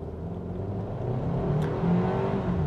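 The 1.6 engine of a 2024 Hyundai Kona N-Line HTRAC accelerates, a smooth, moderate engine hum climbing steadily in pitch and volume from inside the cabin.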